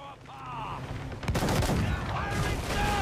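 Ship cannon fire in the naval battle of Assassin's Creed IV Black Flag, a heavy booming volley with rumbling blasts rolling into a sustained roar, with shouted voices over it.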